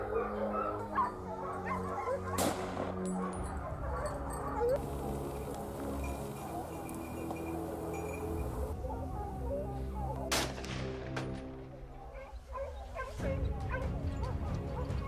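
Hunting dogs bark and yip repeatedly during a wild boar hunt, a chorus of overlapping barks and whimpers at close to middle distance under a voice talking.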